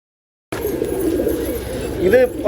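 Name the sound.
racing pigeon cooing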